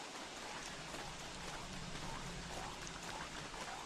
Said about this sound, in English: right now it's raining, so we won't do it just yet